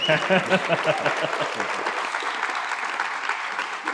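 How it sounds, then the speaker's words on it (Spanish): Audience applause at a theatre talk in Tenerife, dense clapping from a crowd heard close, with a voice speaking over the opening second before the clapping carries on alone. "eso se merece un aplauso"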